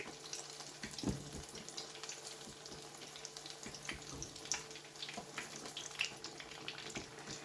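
Shinwari kebabs deep frying in oil over a medium flame, a faint, steady crackle with scattered soft pops and small splashes.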